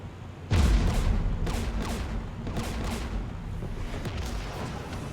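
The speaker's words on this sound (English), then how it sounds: "We're taking fire." Battle noise in Mass Effect 3 erupts with a heavy boom, then continues as a sustained rumble of distant gunfire and artillery, with repeated bursts rolling in over a steady, loud background.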